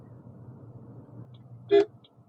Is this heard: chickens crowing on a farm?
no